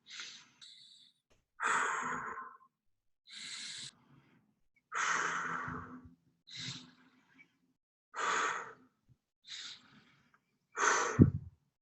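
Slow, deliberate breaths repeat in a steady rhythm, with audible inhales and exhales close to the microphone, about eight separate breaths with pauses between them, used as a self-regulation breathing exercise.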